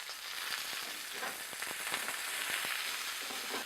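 Pork tenderloin sears in a hot pan with a steady, close sizzle and crackle that runs the whole time, broken by a few sharp pops and spits, with no voices over it.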